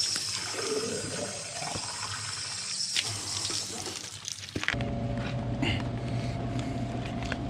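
Water runs steadily from an outdoor church water spout, a close splashing rush that shifts in tone partway through as the flow changes, with no talking.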